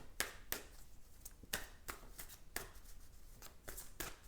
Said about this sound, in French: Je vais tirer une autre carte pour elle.